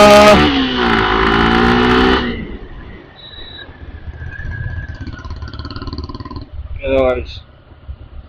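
A Royal Enfield Classic and a Suzuki Gixxer motorcycle pull away. A loud, close engine note opens the scene and then drops quickly to a quieter, receding rumble, with voices and a brief chirp over it near the end.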